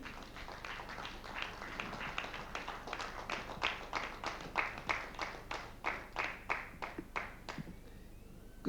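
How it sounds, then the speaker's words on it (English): An audience at a bank distributor forum claps to welcome the Deputy Managing Director, starting as scattered applause and settling into slower, evenly spaced individual claps that stop abruptly. "Ladies and gentlemen, please, a round of applause."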